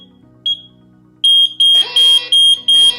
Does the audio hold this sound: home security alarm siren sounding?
yes